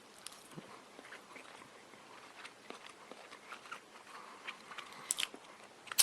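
Someone chews McDonald's Big Breakfast scrambled eggs, with soft, irregular biting and mushy crunching sounds close to the mic, fairly quiet throughout and growing slightly louder toward the end.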